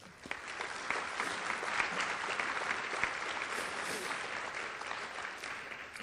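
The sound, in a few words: audience applause at awards ceremony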